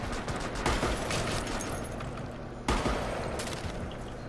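Rapid shotgun blasts from the Rainbow Six Siege video game crack out in a dense, loud volley, with a second hard burst near the end over a constant busy game-sound background.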